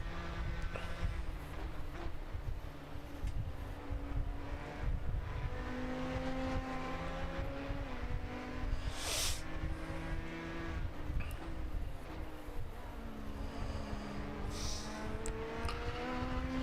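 Race car engines in the iRacing sim game whine and roar continuously, pitches rising and falling as gears shift, with several cars layered together at steady loudness.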